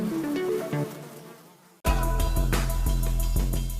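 Bees buzzing in a swarm at a farm, a steady, dense insect drone that swells loudly and continuously after a brief quieter passage.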